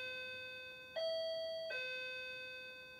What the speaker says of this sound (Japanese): チャイムの音が鳴りました。